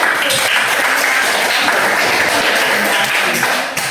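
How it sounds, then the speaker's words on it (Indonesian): Steady applause from a room full of people fills the whole stretch, a dense even patter of many hands clapping at once. "Bagus, tepuk tangan."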